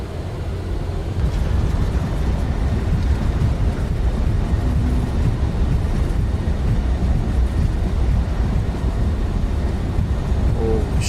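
An Embraer E190 jet rolling out after landing in a flight simulator produces a loud, steady low rumble with continuous rushing noise that holds throughout, with no voices.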